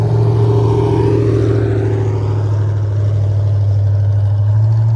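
Demolition derby cars at a Lawrence County fall derby idle and creep through the inspection line, a loud, steady low engine drone with a gradual rising rev partway through.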